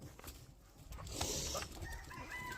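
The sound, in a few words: chickens clucking and rooster crowing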